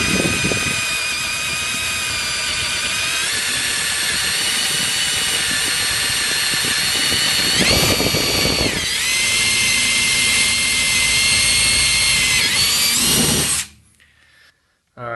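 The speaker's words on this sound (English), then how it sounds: "You just go through and drill them out." A drill runs continuously as a 3/16 bit bores out a rivet on a school bus body, a loud, steady whine with brief surges in pitch partway through, before cutting off abruptly near the end.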